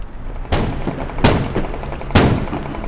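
Three heavy, booming blasts from grenade explosions in the military shooter game Squad, evenly spaced about a second apart. Each one is loud and sharp at onset, then decays into a rumbling tail over constant background noise.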